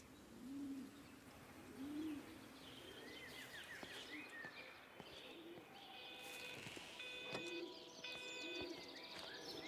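Pigeons or doves coo in repeated low, soft phrases over an ambient bed in the game Everybody's Gone to the Rapture, joined by higher chirping birdsong and a few beeping electronic tones.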